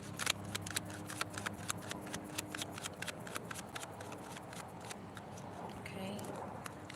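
Tarot cards riffle and slap in quick, crisp bursts, a dense run of papery flicks close up and moderately quiet.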